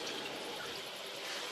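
Tap water runs steadily at a van's small sink, splashing into cupped hands during dishwashing; a continuous, close hiss of flowing water with no talk.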